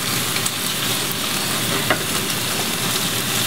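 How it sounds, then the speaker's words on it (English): Lamb shanks browning in a pan, giving a loud, steady close-up sizzle with faint crackles and no talk. "You can see how I have them standing up in the pan to brown that one side"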